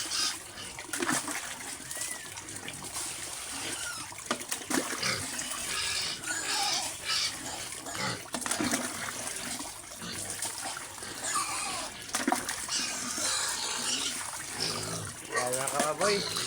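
Water splashes and runs into a pig pen in an irregular gush, with grunting and snuffling from the pigs and someone talking over it.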